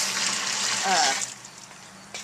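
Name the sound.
hot brewing water being poured into a pot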